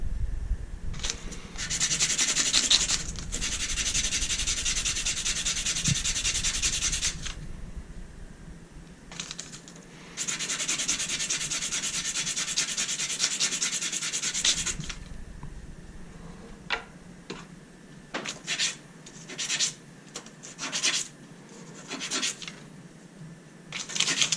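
Worn sandpaper rubs back and forth on wood by hand in two long, steady bursts. Shorter, quieter scratches follow in a workshop while a box joint jig is being built.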